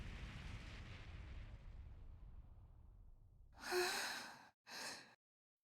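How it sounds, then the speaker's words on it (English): A deep, rumbling roar that slowly fades, followed by two short bursts of harsh noise, like distant heavy gunfire; cannon fire in the video game Ys X: Nordics. "Sounds like screaming. And cannon fire."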